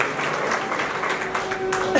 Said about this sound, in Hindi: ताली बजाओ, अच्छी तरह से बजाओ